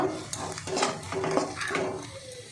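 Spoon stirring amchur powder into a capsicum filling in a pan, scraping and clinking in a few close, uneven strokes with light sizzling underneath.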